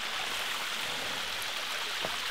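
A small waterfall stream spills over rocks in a steady, close, even rush of water with no voices over it.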